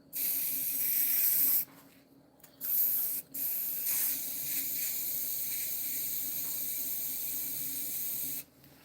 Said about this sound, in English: I sprayed it out from a can